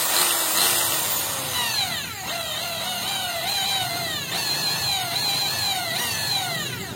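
An electric drill bores through iron, its high whine wavering in pitch as pressure comes and goes, running steadily and fairly loud for several seconds with no talking.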